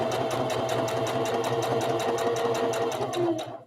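A sewing machine stitches rag doll fabric in a fast, steady run of needle strokes with a motor whine underneath, then winds down and stops.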